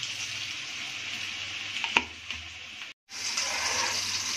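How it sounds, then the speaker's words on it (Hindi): Fish frying in oil over medium heat, a steady close sizzle and crackle with a couple of sharp pops and a brief cut near the end, no talking. "मीडियम आंच पे हम फ़िश फ्राई करेंगे"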